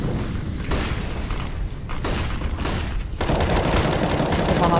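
Counter-Strike gunfire from a Desert Eagle and an SMG comes in loud, dense bursts of sharp shots. Mechanical clatter runs between the volleys, and heavier sustained firing takes over near the end.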